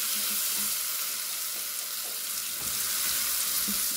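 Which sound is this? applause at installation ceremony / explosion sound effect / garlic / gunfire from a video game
garlic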